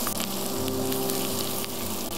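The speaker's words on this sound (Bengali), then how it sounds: "এটা একটু ভাজা হয়ে গেলে আমি এর মধ্যে দিয়ে দিচ্ছি আমার সেদ্ধ করে রাখা বাসমতি চাল।" Minced garlic and chopped onion frying in a little oil for lemon rice give a steady, close sizzle that holds for the whole moment without any voices.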